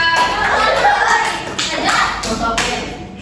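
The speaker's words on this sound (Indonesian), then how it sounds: "tepuk tangan untuk Najwa dari kelompok 3" An eighth-grade class claps for a student after a speech practice, a close, loud burst of scattered hand claps with bumps and shuffling, somewhat uneven and over within a few seconds.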